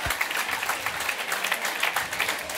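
Audience applause in a room, a steady wash of many hands clapping for the full length with no talk over it.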